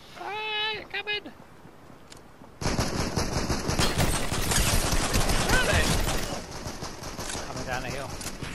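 Sustained rapid automatic gunfire in the video game Fortnite, loud and dense after a brief quieter opening, with people talking over it.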